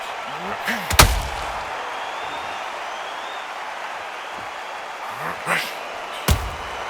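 A counter punch lands in a boxing video game, heard as a sharp heavy thud with crowd noise around it, followed by two more impacts later, under a steady arena ambience.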